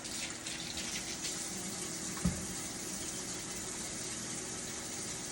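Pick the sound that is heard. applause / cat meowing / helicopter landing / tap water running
tap water running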